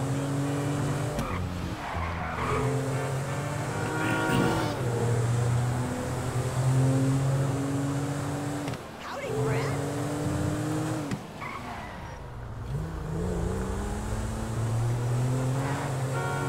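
Car in Grand Theft Auto V driving hard with repeated tire skids and squeals over a steady engine drone, loud and close, with several sharp swerves across the stretch.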